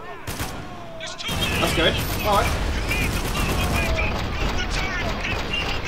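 Gunfire in a war shooter game aimed at a glass window: rapid loud bursts and repeated shots after an opening crack, continuing steadily under a brief spoken remark.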